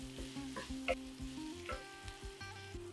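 Corn and beans with ginger and garlic frying in a pot while being stirred, a soft sizzle with scraping spoon strokes and light clinks, close but quiet.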